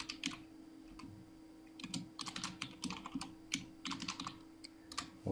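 Computer keyboard typing up close in AutoCAD drafting work, with quick clustered keystroke bursts separated by short pauses, steady and moderately loud with a faint background hum and no speech.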